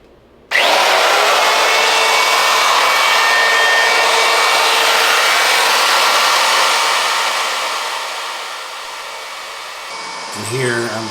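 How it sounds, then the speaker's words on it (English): A router fitted with a keyhole bit carves hanging holes into the back of a wooden tiki sign with a loud, steady, high whine that starts abruptly, holds for about ten seconds, dips slightly near the end and then cuts off. "here I'm just carving with the keyhole bit the holes in the back so we can hang a sign on the wall"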